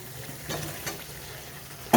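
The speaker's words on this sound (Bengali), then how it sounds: "এবারে আলুগুলো দিয়ে কিছুক্ষণ কষিয়ে নেব, যাতে আলুগুলোর মধ্যেও নুন মশলা খুব ভালো মতন ঢুকে যায়।" Potatoes sizzle in hot oil with spices for a rohu fish curry, a steady frying hiss broken by a few stirring scrapes of the spoon in the pan.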